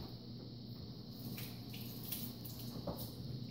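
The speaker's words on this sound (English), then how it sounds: "So anyway, I'm gonna rinse this off" Copper- and nickel-plated bolts rinsed under a running tap at home, a steady low wash of water with faint splashes and drips, continuous and fairly quiet throughout.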